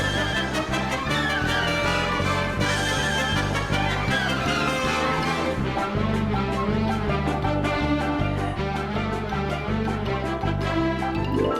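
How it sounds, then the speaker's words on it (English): The Looney Tunes cartoon theme plays as a continuous, full orchestral instrumental piece with a bouncy bass line and busy brass and strings, steady and loud throughout. "This is the theme of the Looney Tunes."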